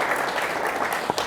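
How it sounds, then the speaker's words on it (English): A brief burst of audience clapping at a chamber of commerce board installation event, moderately loud and dense. "Let's give her and everyone else a round of applause, please."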